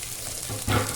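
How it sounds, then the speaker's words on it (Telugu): Long beans (barbati) cooking in hot oil in a pan give a soft, even sizzle that swells near the end as the pieces settle, close and on its own without talk. "ఇప్పుడు వాటిని తీసుకొని దీంట్లో వేసేద్దామండి. నూనెలో మగ్గనివ్వండి."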